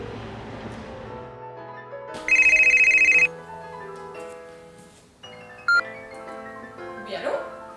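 A telephone ringtone chimes briefly in bursts over background music and a voice speaking.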